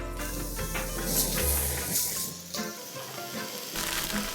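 Beef kofta skewers sizzle and fry in a hot pan, a steady broadband crackle and hiss that stays loud and close throughout with no talking.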